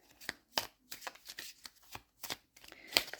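A deck of cards is shuffled in repeated quick riffles and taps, a close series of crisp rustling bursts with brief gaps between them, no speech.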